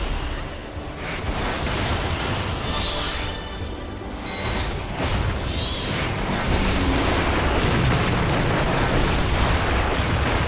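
A boss tank-buster explosion in Final Fantasy XIV's Asphodelos Third Circle Savage, a loud, dense rumbling blast that holds its heavy roar across the whole stretch with bursts layered on top.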